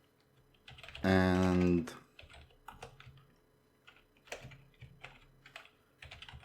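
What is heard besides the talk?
typing on a computer keyboard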